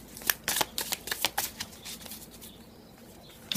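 A deck of tarot cards is shuffled and dealt in a quick burst of close, crisp riffling and flicking strokes that taper into a quieter pause before one last snap.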